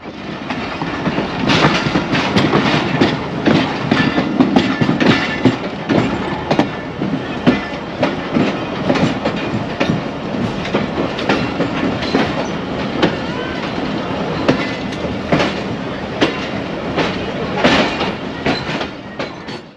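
Jaffar Express pulling out of Sibi Junction on the Sukkur–Quetta line behind a small locomotive built for sharp curves, wheels clattering steadily over rail joints with a continuous loud rumble and repeated sharp clacks throughout.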